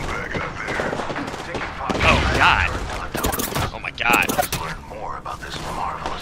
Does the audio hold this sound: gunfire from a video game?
yes